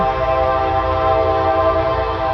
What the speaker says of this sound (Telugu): అదిగోండి ట్రైన్ స్వరం అనమాట అంటే ట్రైన్కి కూడా ఒక స్వరం ఉందన్నమాట